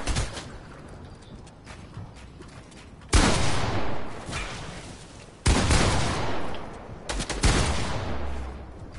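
Bursts of video game gunfire from a team shootout: three loud, sharp volleys of rapid shots, each cutting in abruptly over a steady background and trailing off, with no talk.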